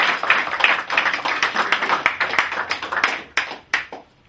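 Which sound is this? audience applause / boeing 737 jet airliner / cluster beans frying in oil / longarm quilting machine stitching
audience applause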